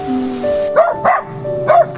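A dog gives three short, sharp barks at moderate distance, spaced unevenly over a steady background hum.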